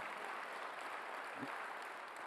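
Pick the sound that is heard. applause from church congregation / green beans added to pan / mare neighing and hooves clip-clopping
applause from church congregation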